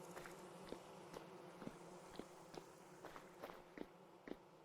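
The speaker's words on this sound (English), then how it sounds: "They have hid bees in the ceiling to make the buzzing noise." Low buzzing of bees hidden in a ceiling inside a Vintage Story game house, a steady drone under soft recurring footstep-like taps, faint and continuous throughout.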